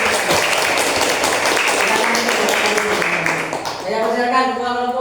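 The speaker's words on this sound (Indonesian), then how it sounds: "Tepuk tangan untuk bos dulu." A classroom of students at an Islamic boarding school claps together for about four seconds in a loud, close burst, then a speaking voice takes over.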